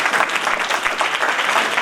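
An audience at a community holiday gathering applauds steadily, with dense, sustained clapping from many hands throughout and no voices over it.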